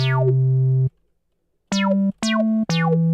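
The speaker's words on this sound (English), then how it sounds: "So this was the meow sound on the" Four synthetic cat meows from a sound font player, no effects, each a sliding tone settling into a steady buzzy note, separated by brief silences; the first longest, the last three close together.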